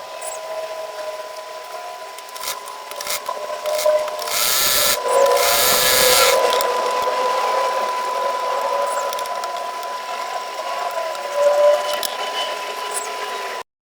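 A sewing machine stitches folded fabric strips for a mask belt, with a few short stitching bursts and then a longer continuous run of rapid needle strokes over a steady motor hum, close and loud.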